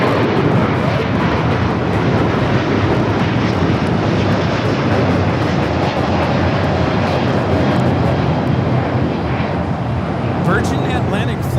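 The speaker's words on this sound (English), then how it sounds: "Virgin Atlantic Flight 8 taking off to London Heathrow on the A350-1000." A Virgin Atlantic Airbus A350-1000 takes off from LAX bound for London Heathrow, its jet engines producing a loud, sustained broadband roar that holds steady throughout.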